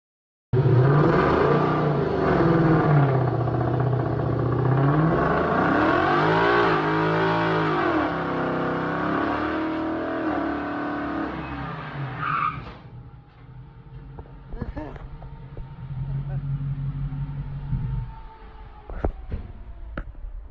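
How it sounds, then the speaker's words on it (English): Car engine revving hard with tires spinning and squealing, a loud sustained roar that sweeps up and down in pitch for about twelve seconds, then drops to a rough idle with scattered knocks. "Horsepower and spinning tires."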